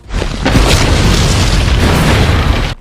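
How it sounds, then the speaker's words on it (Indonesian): A ship explodes in a deep, heavy boom that rumbles loudly for a few seconds, then cuts off. "segera berlindung sebelum kapalnya meledak"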